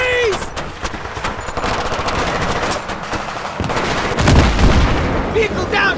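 Rapid machine-gun bursts and booming shots from an ambush in the trees in Battlefield 3, loud and dense, with sharp cracks, a heavy blast near the end and shouted voices mixed in.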